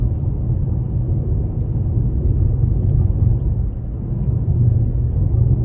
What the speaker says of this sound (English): Now this is like a really rough pavement right now.